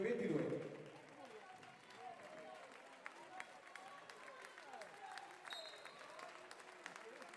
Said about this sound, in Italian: L'applauso delle due squadre in campo